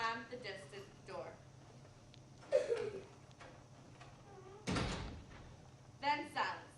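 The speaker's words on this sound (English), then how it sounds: "slam the distant door" A distant door slams once as a sound effect in a youth radio drama, a loud dull thud midway, with voices talking before and after it.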